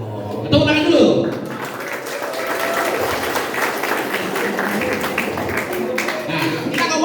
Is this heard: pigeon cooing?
no